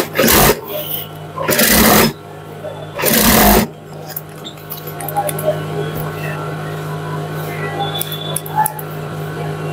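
A sewing machine stitches a trouser hem in three loud, even bursts of about a second each, then stops, leaving quiet room hum and faint handling noises.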